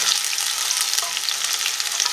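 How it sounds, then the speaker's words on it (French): Onions tipped into hot oil fry with a steady, bright crackling sizzle, continuous and close, with small pops scattered through it and no voices. "Là, on met les oignons."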